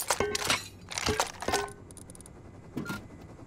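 Gunfire in the survival video game Rust: a few sharp, loud shots in quick bursts, then a pause and a last short burst.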